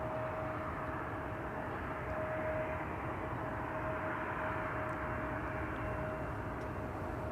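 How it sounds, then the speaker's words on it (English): Airbus A330 engines at Schiphol Airport make a continuous, distant jet roar with a thin steady whine running through it, holding level throughout with no talk. "I'm also hearing the engines of an A330. Quite clearly and distinctly."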